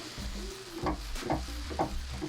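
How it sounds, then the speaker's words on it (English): Cauliflower rice and egg are stirred in a hot pan, a soft continuous sizzle under a few scraping, clacking strokes of the utensil against the pan, close and fairly quiet. "I'm gonna go ahead and start mixing all of the rice"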